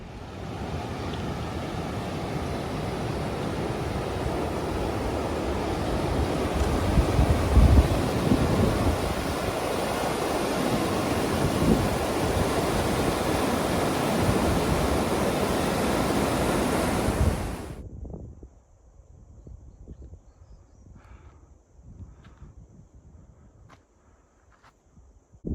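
Water from a river on the Pacific Crest Trail rushes in a loud, steady broadband wash for most of the stretch, then drops abruptly to a quieter, fainter flow with scattered small knocks.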